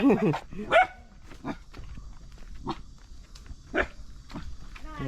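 A couple of sharp dog barks near the start, in a hilltop village, Muthiyamala in Kudayathoor, followed by quieter background noise with people talking.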